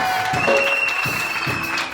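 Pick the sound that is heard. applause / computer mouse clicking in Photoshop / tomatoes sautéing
applause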